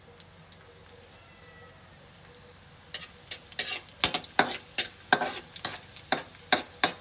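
Garlic sautés in a pan, starting with a quiet low sizzle; then a spoon scrapes and stirs in a steady rhythm of about a dozen close, sharp strokes, with no talking.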